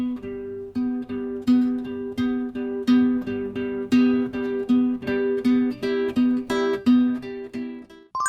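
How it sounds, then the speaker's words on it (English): A melodic guitar line of evenly paced plucked notes, each ringing with a bright attack and short sustain, played cleanly and alone with no voices. "That was a guitar."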